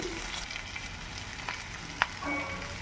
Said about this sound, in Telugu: కాస్తంత జీలకర్ర తెల్లగడ్డలు కొన్ని అలాగే ఎర్రగడ్డలు కొద్దిన ఇవన్నీ బాగా వేయించుకోవాలి